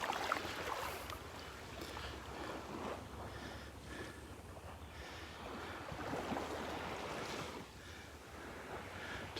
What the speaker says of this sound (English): As I slosh out into the water.